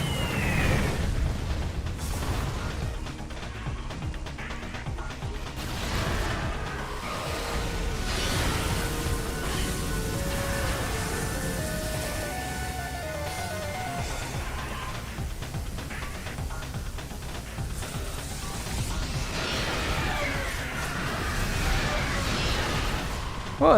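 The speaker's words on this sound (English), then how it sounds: "He got a breath beam." Metroid Prime boss battle against a mechanical dragon covered in guns and missile launchers, its breath beam attack roaring as a sustained rumbling blast with bursts and booms, layered game sound effects at moderate level.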